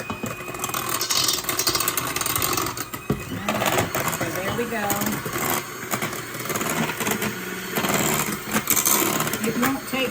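An electric mixer whips cream for a copycat Dairy Queen ice cream cake, a steady close motor whir running throughout with brief changes in pitch, while a person talks over it.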